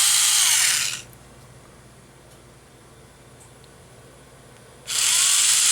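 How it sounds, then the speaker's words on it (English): A Tamiya hand drill spins a plastic model part held in its chuck, a loud, close, high whirring buzz that runs about a second, stops during a low quiet hum, then starts again. "I stuck it in the chuck of my handy dandy Tamiya drill,"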